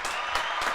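A short burst of audience clapping on a podcast, several hands applauding together in a steady, moderately loud patter for under a second.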